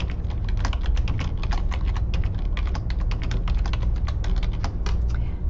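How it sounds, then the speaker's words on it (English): Rapid, steady typing on a computer keyboard, dense overlapping keystrokes clattering close and loud without pause, while a title is entered for an MLA style paper. "So now then I'm going to type"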